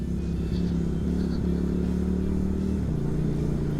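Honda-style SRV 250 AMT motorcycle ridden in manual mode in second gear, its engine droning steadily close by with small shifts in pitch.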